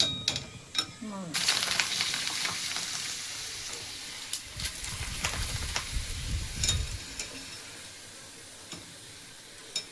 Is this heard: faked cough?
no